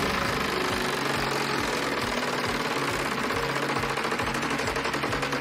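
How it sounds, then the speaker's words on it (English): A Wheel of Fortune game show wheel spins with a rapid, steady clicking rattle that holds at an even loud level throughout, with no talk. "Spin the wheel."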